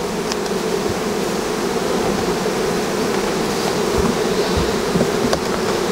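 Dense, steady drone of honey bees at an apiary hive during a mature honey harvest, loud and close, filling the whole stretch without a break and with no talk over it.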